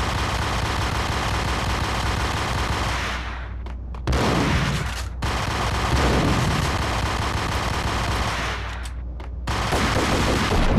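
Dense, continuous gunfire in the Max Payne shooter, rapid overlapping shots forming a steady loud barrage with a few brief dropouts where the sound cuts away.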